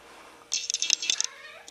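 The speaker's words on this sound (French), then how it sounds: "Voyons les chats." Cats meowing indoors, a short burst of several quick, fairly close meows and cries after a brief quiet moment, fading out toward the end.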